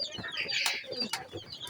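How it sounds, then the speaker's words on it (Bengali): Young chickens on a poultry farm cluck and chirp in quick, overlapping calls close by, with a busy, fluttery quality and no talking. "দেখেন না মুরগির ফার্ম।"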